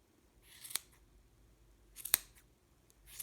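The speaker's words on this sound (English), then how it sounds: "with a pair of scissors, all of these loops you're going to cut" Two sharp scissor snips cutting yarn loops on a chunky crocheted beanie, spaced about a second and a half apart, each a crisp close metallic cut over near silence.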